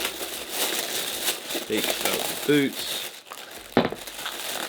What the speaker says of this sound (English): Comes in a plastic bag, nothing fancy about it.